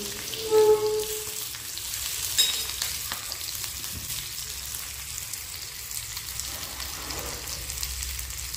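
Food fries in a pan in a home kitchen, giving a steady, even sizzle that runs the whole time, with a few faint clinks and kitchen noises over it and no talking.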